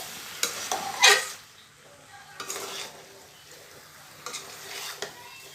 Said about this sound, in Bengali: আমরা কিন্তু কাঁঠালটাকে ভালো মতো কষিয়ে নিয়েছি